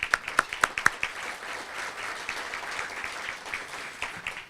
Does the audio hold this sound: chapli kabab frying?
no